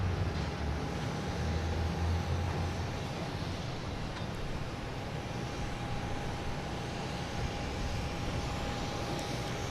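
A JetBlue airliner at Boston Logan airport gives a steady, faint, distant engine roar with a broad rushing wash that holds evenly throughout, no voices.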